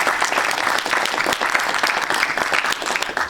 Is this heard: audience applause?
yes